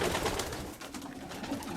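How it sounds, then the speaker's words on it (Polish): Pigeons coo at a pigeon auction, soft low throaty calls repeating under a busy room murmur, moderately near. "Tutaj kolejny gołąbek"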